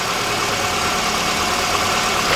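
Vehicle engine idling at about 1,030 rpm, a steady even rumble heard up close without talk.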